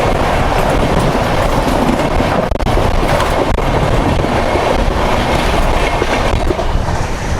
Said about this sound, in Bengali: ট্রেন ছাড়ার সঙ্গে সঙ্গে ট্রেনের স্পিড কিন্তু নিয়ে নিয়েছে 120 124-এ টানছে